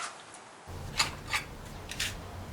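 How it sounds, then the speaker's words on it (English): A flexible-blade knife trims the edges of vinyl flooring laid on a board: a few short scraping slices in quick succession, close up over quiet room hiss. "All I need to do now is trim these edges back to the border of the board."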